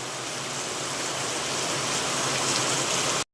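Heavy rain pours down in a village during the morning, a dense, even hiss of falling water that holds steady at full strength before cutting off abruptly.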